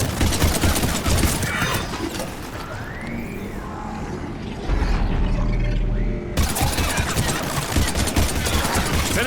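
Gunfire crackles through a Mass Effect 3 combat scene, loud bursts of shots mixed with mechanical game effects and a rising whine, continuing in dense volleys that pause briefly before resuming.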